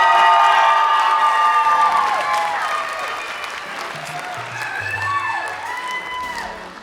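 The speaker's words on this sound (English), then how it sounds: "Let's give some applause to our Officer Board interns for their hard work this year" A crowd at a Filipino Night 2025 gathering applauds and cheers for interns, with loud clapping, whoops and shouts that swell at first and then slowly ease off.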